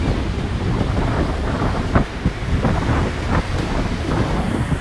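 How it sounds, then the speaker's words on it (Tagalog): Strong ocean surf at Bondi Beach in Sydney, Australia, a dense continuous roar of breaking waves mixed with heavy wind buffeting the microphone, a few sharper gusts standing out. "Pero malakas din yung alon dito"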